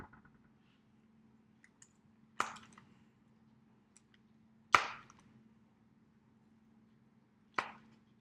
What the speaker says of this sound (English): So I'm just going to cut little slices like this and put it on the salmon.